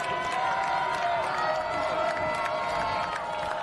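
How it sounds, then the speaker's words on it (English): Loud football stadium crowd at St. James roaring during a close fourth quarter between the Thunder and Jaguars, a sustained, dense cheer with whistles and shouts filling the air. "The St. James crowd is loud here."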